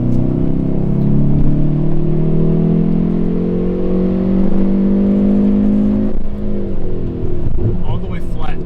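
Hyundai Veloster N (2020) held at full throttle through a tunnel on a canyon highway, a loud sustained engine drone with rising harmonics and echoing tunnel resonance, easing briefly before building again near the end.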